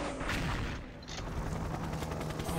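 Gunfire in the online shooter XShot, a dense burst of shots and booming blasts over steady game noise, loud and continuous for a few seconds with no talking.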